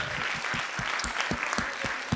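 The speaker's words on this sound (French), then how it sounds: "je pense qu'on peut aussi applaudir Véronique" An audience at a science-fiction night claps for a performer, brief clear applause with distinct individual claps in a quick steady rhythm.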